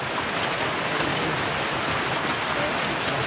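Heavy rain falls in a steady, dense hiss on surfaces close by, loud and unbroken throughout.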